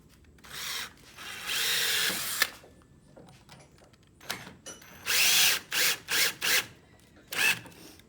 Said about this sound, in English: drill that in